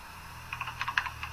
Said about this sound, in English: Oh, a pissed off guy, typing.